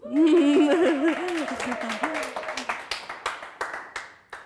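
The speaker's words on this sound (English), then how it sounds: "Congratulations again to all the Bachelor Award winners. Applause." Audience at an art academy graduation ceremony applauding award winners, starting under a speaking voice and laughter, then dwindling into a handful of scattered, separate claps.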